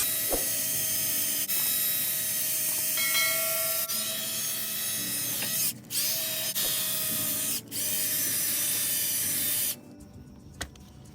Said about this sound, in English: I'm going to take my wire wheel and get all this rust off of the hub here.